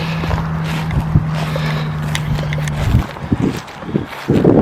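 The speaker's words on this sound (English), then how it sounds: "It's been quite a windy day" Wind rushes and buffets the microphone outdoors, with a low steady hum and occasional thumps near the end.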